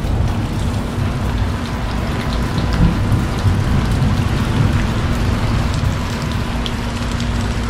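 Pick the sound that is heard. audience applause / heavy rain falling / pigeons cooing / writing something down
heavy rain falling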